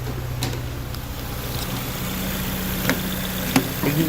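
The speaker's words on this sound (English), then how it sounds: "Excuse the engine noise." A Ford Fiesta engine idles nearby with a steady low rumble and faint mechanical knocks, a few light clicks and taps over the top, no talking.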